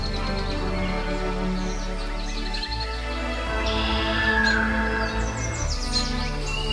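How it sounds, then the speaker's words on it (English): Birds chirp and call in a forest, scattered tweets layered over a dense, steady musical bed, the bird voices fairly faint and intermittent. "As the birds chirp, it echoes throughout the silent forest"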